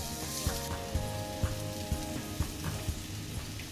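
Ginger garlic paste frying in a hot pan for an Indian mango chicken dish, a steady close hiss and crackle with regular soft stirring knocks about twice a second.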